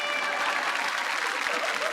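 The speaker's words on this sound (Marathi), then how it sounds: "एकदा या ताईंसाठी एकदा जोरदार टाळ्या होऊन जाऊ देत" A TV studio audience claps in a brief, steady burst of applause, many hands at once, lasting about two seconds.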